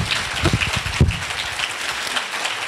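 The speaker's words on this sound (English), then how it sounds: "please give these doctors a great round of applause" An audience at a doctors' forum in Montgomery applauds the doctors, a burst of clapping that peaks early and then fades into a thinner, scattered patter toward the end.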